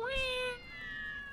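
A cat gives one clear, close meow that slides down in pitch, then trails into a quieter second tone before fading.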